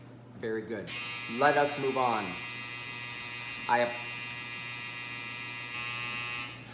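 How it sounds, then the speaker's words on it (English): A household clothes dryer buzzes loudly and continuously to signal dry laundry, a steady electric tone that starts near the beginning and runs almost to the end while someone speaks briefly over it. "That's my dryer telling me that the clothes are dry."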